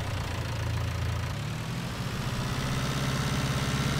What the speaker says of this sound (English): Nice little compact utility tractor.